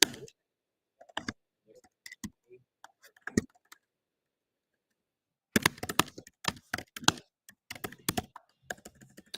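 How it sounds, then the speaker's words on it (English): Computer keyboard typing in scattered bursts of quick, crisp clicks, sparse and hesitant at first, then a denser flurry of keystrokes after a short pause, close to the microphone. "I hate typing because I'm not very good at"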